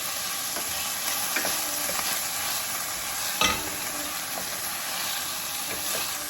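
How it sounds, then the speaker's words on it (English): Tomatoes, onions and jalapeno cooking in a hot pan for a keto meal prep: a steady, close sizzle with a few soft spoon scrapes and one brief clatter partway through. "Continue to cook your tomatoes and onions and jalapeno until the tomatoes get soft."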